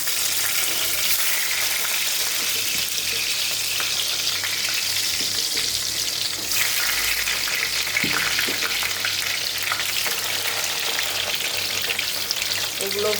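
Eggplant slices rubbed with salt and turmeric fry in hot oil in a wok, giving a loud, dense, unbroken crackling sizzle close by throughout, with only faint clatter now and then.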